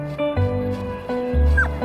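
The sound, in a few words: dog whimpering, likely a stray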